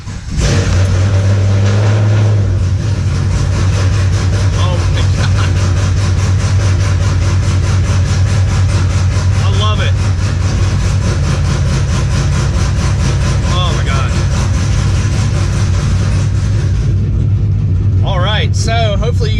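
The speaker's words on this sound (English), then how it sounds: "you guys are gonna get another cold start from inside the car" A car fitted with a Spec Stage 3 clutch and flywheel cold-starts, heard from inside the cabin. The engine drones loudly and steadily throughout, and a voice speaks briefly near the end.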